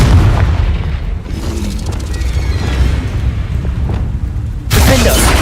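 A Confringo blasting spell going off in Hogwarts Legacy: deep booming bursts over a dense, rumbling game soundscape, with a sharp, loud burst near the end.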